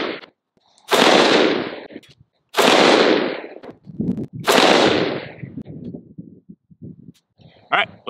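An Arsenal SAM7 AK-47 rifle firing steel-case 7.62x39 ammunition lets off three loud, sharp shots spaced about two seconds apart, each with a long decaying echo, followed by scattered quieter knocks and a short burst of noise at the end.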